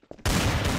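A burst of gunfire in Garry's Mod's Trouble in Terrorist Town mode, preceded by two short faint clicks, then a loud sustained rattle of shots filling the rest of the moment.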